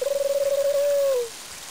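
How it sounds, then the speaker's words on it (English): A carrier pigeon arrives in the game Mother 3 with a single clear electronic tone that pulses rapidly at first, then holds steady and slides downward as it fades, heard alone and fairly close. "Oh, it's the carrier pigeon."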